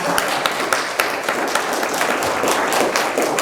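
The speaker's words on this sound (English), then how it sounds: "Can we just clap for that one more time?" Audience at the 2020 Solutionary Summit applauds during a speech, a dense, steady wash of many hands clapping with sharper individual claps popping out, sustained throughout.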